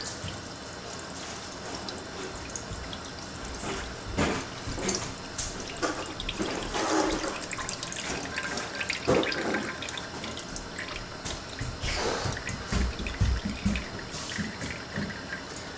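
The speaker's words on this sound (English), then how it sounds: "I'm just going to only empty the liquid into the pan" Liquid from a jar of home-canned beef stew pours into a pan, a steady wet trickle and splash running through the clip with occasional louder glugs and clinks.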